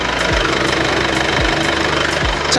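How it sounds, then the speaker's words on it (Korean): Steady diesel engine idle of a Mercedes-Benz car with the hood open, close by, a continuous low rumble with rhythmic knocking pulses and broadband mechanical clatter. "디젤 엔진이라 어느 정도 소음은 있지만"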